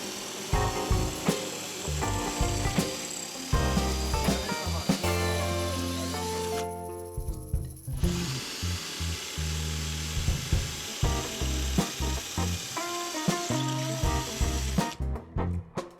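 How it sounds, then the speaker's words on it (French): An electric drill bores a hole in a rain barrel laid on its side for a garden shed setup, a close, steady whine with pitch shifts as the bit bites, broken by short pauses and restarts. "Et maintenant on perce."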